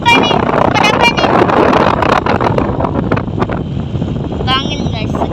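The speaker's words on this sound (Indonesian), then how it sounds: "Angin guys, segar." Sea wind gusting at the coast near Banda Aceh's zero-kilometre point, a loud constant buffeting rush across the microphone throughout, with a few brief voices and chirps over it.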